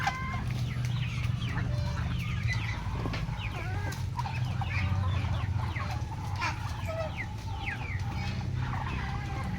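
Mostly black chickens cluck and squawk repeatedly in the background over a steady low hum, several birds calling at a moderate distance.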